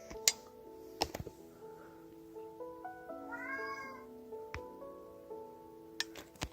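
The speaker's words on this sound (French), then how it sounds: "le chat qui vient embêter tout le monde" A house cat meows in a drawn-out, wavering cry over a faint indoor hum, with a few sharp knocks and clicks nearby and no talking.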